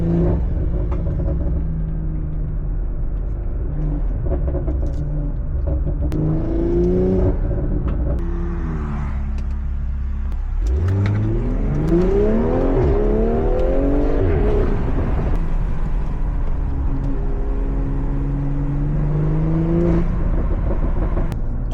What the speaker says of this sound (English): why does the car sound even better?